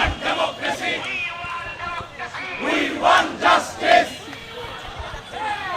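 A student group from Dhaka University marching in protest, a crowd chanting loud rhythmic slogans in repeated bursts, voices massed together and fairly close.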